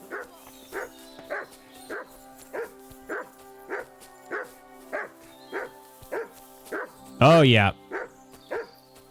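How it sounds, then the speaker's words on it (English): Mud the dog barks in Kingdom Come: Deliverance II, a steady run of loud, evenly spaced barks close by, broken once by a short burst of a voice before the barking goes on. "Mud is barking up a storm."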